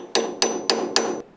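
Four sharp, evenly spaced hammer blows bend over the retaining tabs on the beam bolts of a VW Type 1 link pin front beam for a Karmann Ghia or Beetle, each strike ringing briefly, close and loud with no talk.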